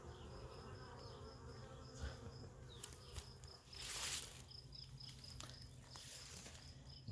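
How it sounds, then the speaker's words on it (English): Honey bees swarm around a newly installed hive in a freshly planted garden on a spring morning, a faint, steady buzzing hum with a few brief louder passes close by. "And our new hive of bees sitting there."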